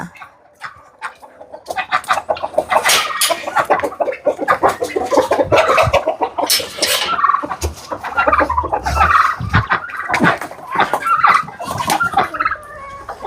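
Farm chickens in a Kerala poultry yard, dense loud clucking and squawking from a flock close by, busy and continuous with overlapping calls.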